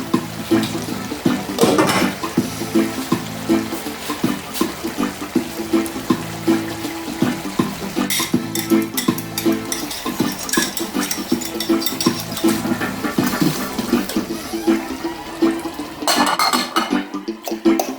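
Liquid is added to a sweet and sour pork shoulder dish in a pot, giving an uneven run of pouring, splashing and bubbling with occasional clinks of cookware, moderately close and steady with no talking.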